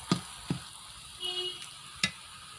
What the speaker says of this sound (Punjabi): ਤੇ ਹੁਣ ਮਸਾਲਿਆਂ ਨੂੰ ਵੀ ਵਿੱਚ ਭੁੰਨ ਲਵਾਂਗੇ